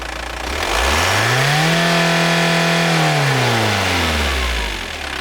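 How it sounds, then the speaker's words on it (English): A diesel car engine in an emissions test rises quickly from idle to full throttle, holds a loud, strained roar for a second or so, then falls back to idle. The whole swell is close and loud with no talk. "moving the throttle pedal from idle to full fuel in not more than 1 second"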